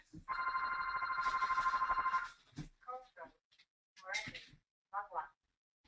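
A telephone rings loudly and steadily for about two seconds, then a person speaks in short bursts afterward.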